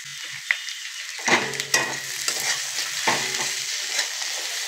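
Mustard greens are stirred and sautéed with salt, turmeric, chilli and cumin powder in a pan, with a sizzle broken by several distinct close spatula scrapes and knocks.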